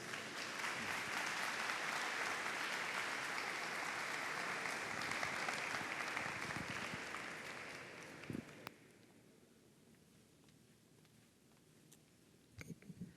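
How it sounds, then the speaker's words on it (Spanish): Audience applause at the close of a lecture on the potential of ICT for positive social change, a dense sustained clapping that fades away after about seven seconds, followed by a few scattered claps near the end. "Un fuerte aplauso nuevamente"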